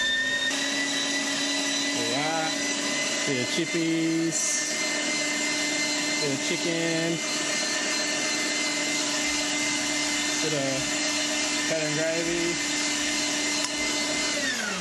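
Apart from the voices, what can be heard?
old vacuum cleaner running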